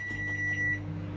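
A microwave oven running with a steady hum and a thin high tone that cuts out partway through, heard close with no talk.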